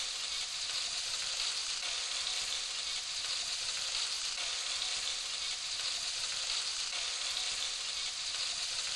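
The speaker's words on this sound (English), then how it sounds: "Now we're going to add our paste that we made earlier." Beef rendang spice paste frying and being stirred in a pan, a loud, steady, close sizzle that holds evenly throughout with no talking.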